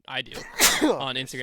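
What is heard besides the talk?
sneeze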